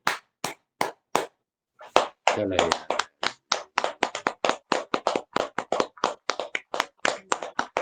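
At an online yoga session, people clap to welcome someone: a few sparse, crisp claps give way to brisk, uneven clapping from several people close to the mic, with a brief spoken word near the start.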